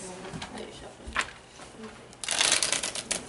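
Playing cards being shuffled at a table, a short riffle burst after scattered handling clicks and rustles, close and moderately loud.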